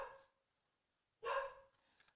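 A dog gives a short bark at the very start and then a louder, closer bark about a second later, with near silence between the two.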